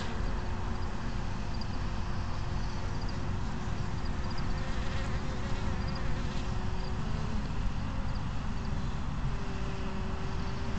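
Dense, steady drone of many honey bees swarming a hive entrance during colony defense, continuous and close throughout with no talk.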